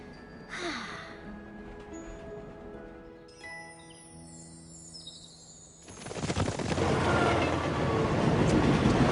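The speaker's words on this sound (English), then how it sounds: "They're getting awfully close to the train." Cartoon train in a My Little Pony: Friendship is Magic episode, starting with a whistle and some scattered effects before a loud, steady rumbling roar builds up and holds through the second half.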